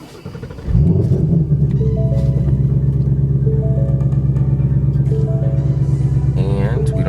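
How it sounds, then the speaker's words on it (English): A 2018-2023 Ford Mustang engine cranks and catches, then settles into a loud, steady, deep idle rumble that continues close by for several seconds with no speech. "We can now hop back in the car, turn it on."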